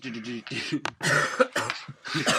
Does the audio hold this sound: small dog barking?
no